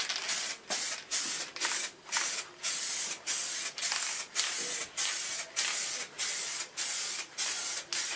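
Short, regular bursts of an aerosol spraying Frost Liquid Wrap coating onto a part mounted off the table, a steady hiss that stops and starts about twice a second, loud and close, with no voices.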